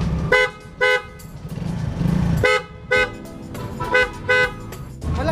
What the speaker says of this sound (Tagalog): Malakas yung ganitong horn.